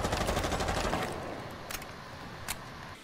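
Rapid gunfire rattles in a video game, a fast burst of close shots followed by a couple of isolated single shots, with no talking.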